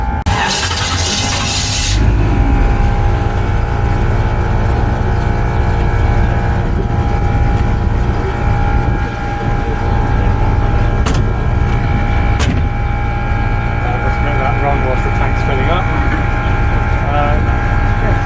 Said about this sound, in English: So you can probably hear the pump going now.